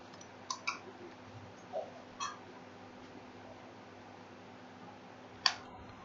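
A computer mouse clicks a handful of times during a Python coding session, each click short and close, separated by quiet pauses over a faint steady hum.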